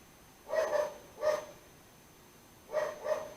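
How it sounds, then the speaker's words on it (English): A dog barks in three distinct bursts, two close together and one after a pause, fairly faint and off at a distance, with quiet room tone between them and no talking. "My dog is barking again."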